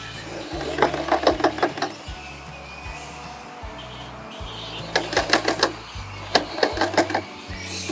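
Sewing machine making a back stitch, two short bursts of rapid needle clatter separated by a pause, with softer handling and machine hum between.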